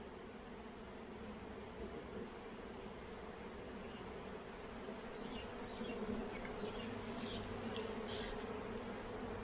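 A honeybee swarm on Réunion Island makes a dense, continuous buzz that fills the air, steady and moderately loud, with faint higher insect whines drifting over it and no talking.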